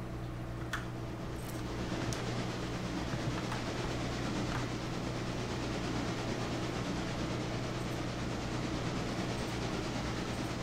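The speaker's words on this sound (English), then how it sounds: "And passenger train has arrived." A passenger train in a railroad-operations video game rumbles steadily as it arrives, with a continuous low mechanical drone and a few faint clicks over the top, and no talking.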